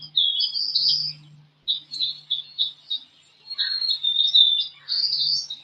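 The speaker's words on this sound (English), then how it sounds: "I love it when it starts singing too. It's got such a beautiful melody." Mockingbird singing from a power line outdoors, a varied series of loud, clear warbled and whistled phrases separated by short pauses, with no other sounds around it.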